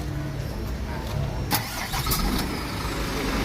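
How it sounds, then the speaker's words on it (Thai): A Scania Super Euro5 420P truck engine cranks and catches, then keeps running with a steady, loud diesel rumble close by, no voices over it. "มาลองฟังเสียงเครื่องเครื่องยนต์ตัวนี้จะ เสียงจะแตกต่างจากรุ่นเก่านะครับ"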